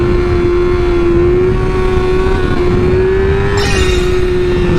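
A motorcycle engine revs hard and steadily during clutch-up power wheelies, a loud sustained tone that climbs slightly, followed near the end by a brief higher-pitched rise.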